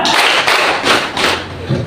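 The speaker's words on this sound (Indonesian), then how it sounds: "Kalau dua berarti dua kali. Tepuk dua." A crowd at a school Eid al-Adha gathering claps together in loose bursts, several broad smacks spaced across a couple of seconds, near and fairly loud.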